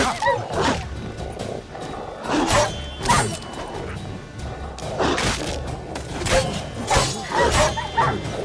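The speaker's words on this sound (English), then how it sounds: "Wolves? No. Wild dogs." Wild dogs in a medieval RPG: growls, snarls and barks erupt repeatedly in a loud, busy game soundscape with thumps, with no talk over them.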